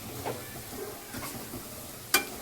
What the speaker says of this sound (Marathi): चांगली परतून घ्यावं बारीक गॅस ठेवून.